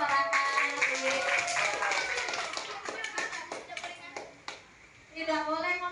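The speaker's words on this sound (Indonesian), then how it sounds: "Tepuk tangan buat masyarakat." Children in a sixth-grade classroom clap their hands together in a quick, uneven patter that fades, then rises again with their voices.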